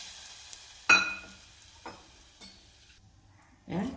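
Water is poured into a pan of sautéed pigeon pea grains, setting off sharp bursts of sizzling against a quiet background: one strong hiss, several softer ones, and a final louder splash and sizzle near the end.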